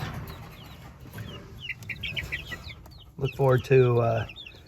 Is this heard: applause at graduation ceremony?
no